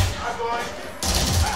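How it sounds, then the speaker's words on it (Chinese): Rapid gunfire and heavy bass booms from a PS5 game played through a Samsung Q990D soundbar, arriving as a dense, loud burst with a deep low thump partway through. "枪声、爆炸声、环境声"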